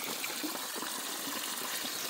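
Water from a house's emptied tank or basin rushes steadily through a drain pipe, a continuous, even gushing hiss with no pauses and no voices.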